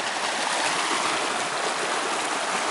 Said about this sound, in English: two streams. Are converging on the property directly above us and are coming down through our property, mixing with our stream